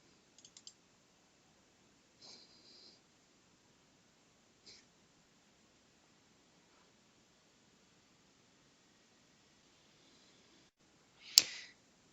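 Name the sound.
computer mouse double-clicking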